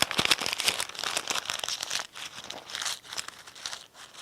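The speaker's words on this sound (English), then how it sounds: "For one piece of paper, I will crumple it into a ball." A single sheet of paper is crumpled into a ball, giving a continuous close crinkling and crunching over four seconds, loud and alone.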